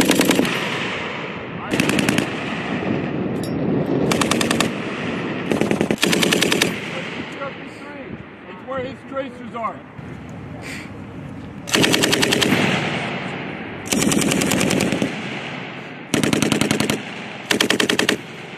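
M240 machine guns at a Marine weapons range firing rapid bursts, loud repeated volleys separated by short gaps, with shouted commands between them.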